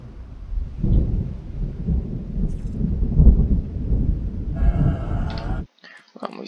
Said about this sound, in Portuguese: Tempestade a caminho, então.